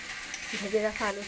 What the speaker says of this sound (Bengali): দিয়ে মশলার সঙ্গে ভালো করে কষিয়ে নেব